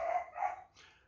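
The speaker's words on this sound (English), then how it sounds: "excuse the dogs" Dogs bark indoors in two quick, fairly close barks followed by a softer third yip, all within about a second.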